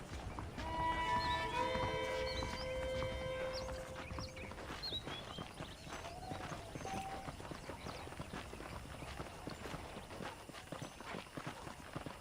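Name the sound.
horses walking in a video game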